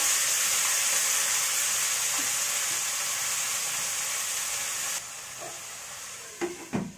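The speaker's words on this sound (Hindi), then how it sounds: "बस जी वो सीधा घी डालते ही गर्म होते ही उसको और मेथी डाल दी है" Steady, loud sizzling hiss of fenugreek (methi) leaves frying in hot ghee with no tempering spices, the sizzle dropping slightly partway through, followed by a few close clinks of a utensil against the pan.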